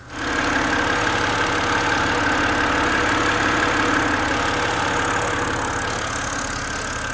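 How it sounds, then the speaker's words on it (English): A BMW N52N engine idles steadily and close by, a constant low rumble with a faint higher whine that holds without change throughout. "Engine sounds good."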